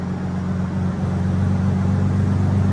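A BMW engine running at steady high revs, a dense continuous drone that holds constant for the whole stretch with no other sounds over it.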